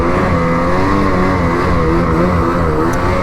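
A turbocharged car engine revs hard and holds high near 8,000 rpm, a loud, steady, buzzing roar with wavering pitch, close up and alone.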